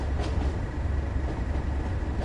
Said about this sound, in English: These big old freight trains can be a bit difficult to stop at times